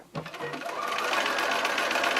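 A sewing machine with a quarter-inch foot starts up after a faint click and stitches along a fabric edge in a fast, steady whirring run, close and moderately quiet.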